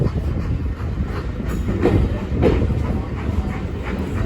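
A Class 45 diesel locomotive hauling a rake of maroon BR Mark 1 coaches on a heritage railway rumbles past with a steady, loud roar of wheels and engine and faint rhythmic rail clatter, heard from nearby for a few seconds.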